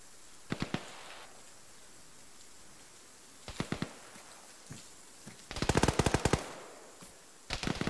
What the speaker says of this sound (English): AK fire north.